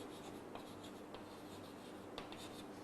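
A pen writing notes on paper, with steady close scratching strokes and a few sharper taps, quiet and continuous, no voices.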